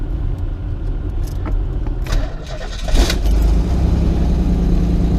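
A 1988 Pontiac Fiero GT with keys jangling first, then the starter cranks and the engine catches about three seconds in, settling into a loud, steady idle close by.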